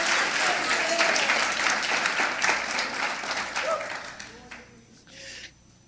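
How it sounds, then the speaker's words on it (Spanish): A church congregation breaks into loud, sustained applause that gradually thins and fades toward the end, with scattered voices mixed into the clapping. "Yo quiero que usted se dé un aplauso."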